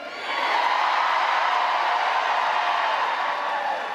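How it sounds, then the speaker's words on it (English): A large campaign rally crowd for Harris and Walz roars steadily and loudly throughout, a dense wash of many voices cheering and chanting together without a break. "we're going to chant for her like we never chanted before"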